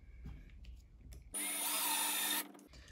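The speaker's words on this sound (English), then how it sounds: "Go ahead and start with a 1/8 size drill bit, see if that's large enough for these rivets." A drill with a 1/8 bit bores out rivets on an Airstream awning window's dual sash frame, a steady high whine lasting about a second, close and loud, with quiet handling noise before and after.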